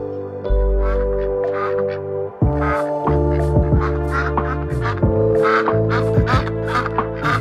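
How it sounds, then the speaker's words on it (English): Cartoon duck quacks from a mother duck and her ducklings at the water, repeated short nasal calls over a sustained musical backing, clear and close. "the mother duck took her ducklings for a swim."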